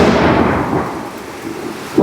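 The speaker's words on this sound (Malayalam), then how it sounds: "പൊട്ടി ഗംഭീര ഇടിവെട്ടാണ്." Loud, close thunder rumbles from a storm on a day trip to Illikkal Kallu, with a deep roar that swells and fades over about two seconds amid falling rain, ending in a fresh burst.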